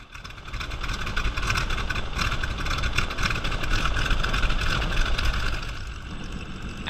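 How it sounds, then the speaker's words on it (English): The radial engine of a Stearman biplane runs steadily after start-up, a loud, close, continuous rumble with a rough pulsing drone heard from the cockpit with no speech. "so I can hear John, he starts up the engine, and we're off."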